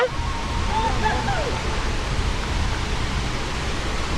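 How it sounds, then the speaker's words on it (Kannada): Constant, dense roar of a waterfall at Arekallu, unbroken and fairly loud, with only a faint hint of a voice at the very start. "ನೋಡಿ ಗಾಯ್ಸ್ ಈ ಫಾಲ್ಸ್ ಹೇಗುಂಟು ನೋಡಿ"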